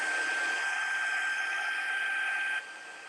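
A heat tool blows steadily at close range over white embossing powder on a black card, a constant airy whoosh that drops slightly in level near the end.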